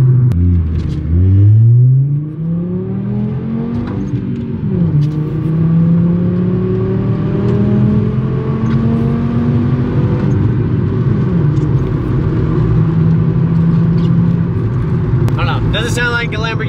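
A 6.7 Powerstroke diesel truck engine revs loud and close, its pitch dipping and then climbing and holding in long sustained pulls, with people talking over it.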